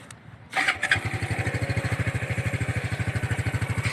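A stock 2019 Wave 110 motorcycle engine cranks and catches, then settles into a steady, rapid chugging idle close by.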